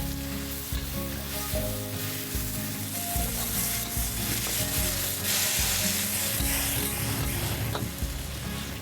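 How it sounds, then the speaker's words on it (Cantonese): Kung Pao chicken, a classic Sichuan dish, stir-fries in plenty of hot oil with a loud, continuous sizzle, punctuated by repeated stirring and scraping strokes close by. "咁你可以慢慢炒下佢"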